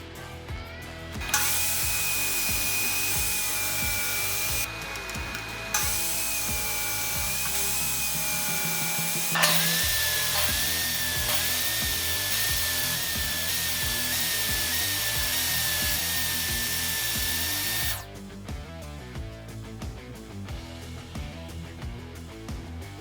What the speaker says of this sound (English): I'm using my custom spacers and a table saw.